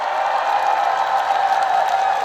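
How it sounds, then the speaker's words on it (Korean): An outdoor crowd at the Cheongsong apple festival gives a short, steady burst of applause for a fan club, a dense wash of clapping heard close and without pause. "이분들께 박수 한 번만 부탁드리겠습니다"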